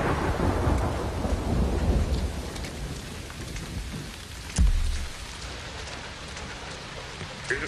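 Heavy rain pours steadily in Splinter Cell: Blacklist while a sharp thunderclap cracks midway, followed by a lingering rumble under the constant downpour.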